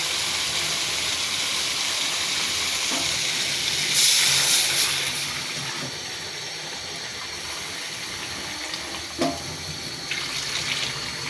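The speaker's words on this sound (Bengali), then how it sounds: "পানি দিয়ে দিব" Water pours steadily from a tap into a cooking pan of chopped onion, ginger, garlic and tomato for a fish curry, a broad hissing rush that swells around the middle and then settles, with no voices.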